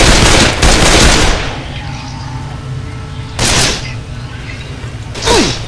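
Bursts of automatic gunfire crack out in the I Hate Mountains video game, two loud rapid volleys separated by a quieter stretch, with a short sharp report at the end.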